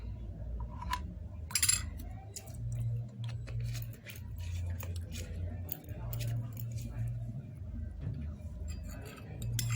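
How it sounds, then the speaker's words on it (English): A spoon stirring a guava leaf hair mixture with honey in a bowl: light metallic clinks and scraping taps against the container, scattered and close, under someone talking steadily. "Make sure you stir it very well"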